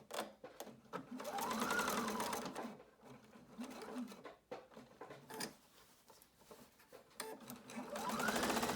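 Sewing machine stitching around the edge of a fabric face mask with a filter pocket, its motor running in bursts that start, stop and speed up again, fairly close and steady with no talking.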